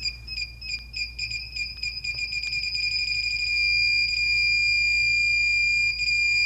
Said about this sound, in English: And the beep speeds up as you get closer to alignment.